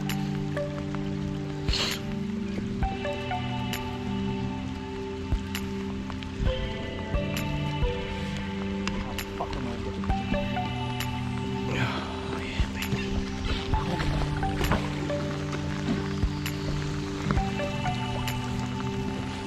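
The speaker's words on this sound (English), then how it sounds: "pouring down rain" Steady rain patters and drips continuously, with scattered louder droplets against a constant wet hiss.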